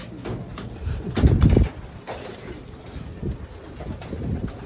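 Pigeons in a loft during feeding, soft close cooing and rustling, with a louder burst of wing flutter and movement near the middle and scattered bumps around it.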